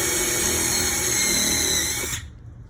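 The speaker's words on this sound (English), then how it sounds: "Okay, we drill our holes here." A power drill whirs steadily at high speed drilling holes for a storm door jamb bracket, close and loud, then winds down and stops near the end.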